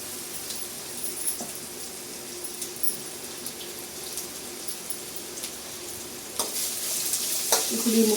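Finely chopped cucumber pieces sizzle in hot tempering as they are stirred, a steady crackling fry with scattered spoon scrapes, growing louder and busier toward the end, with no talk.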